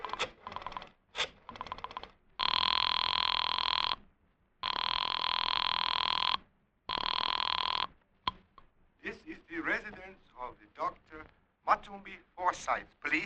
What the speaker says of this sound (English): I dug through the telephone book and I found Dr. Matson B. Forsyth's number and I dialed it.